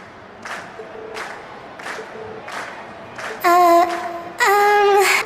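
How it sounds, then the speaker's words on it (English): Crowd cheering and shouting at an in-game concert in Trails of Cold Steel, a steady roar of voices with repeated bursts rising over it, and two loud sustained tonal swells near the end. "we've heard your cheers loud and clear"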